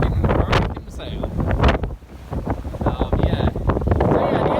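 Strong gusts of wind roar and buffet the microphone aboard a Colvic 26 sailboat at sea off the Cornish coast in force 6 conditions, rising and falling, with voices heard intermittently.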